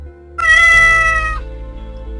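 A large grey cat gives a single clear, close meow lasting about a second, rising then trailing off, with no voices.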